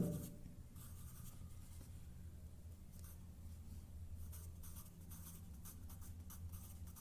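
A pen writes by hand in a school workbook, producing soft, close scratching strokes in irregular short bursts over a low steady hum, with no talking.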